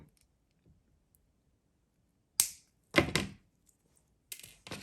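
Flush cutters snipping the end of jewelry wire while making earrings, a sharp snip followed by a couple of brief metallic clicks, close and crisp against a quiet background.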